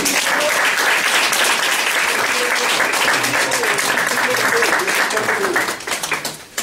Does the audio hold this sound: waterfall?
no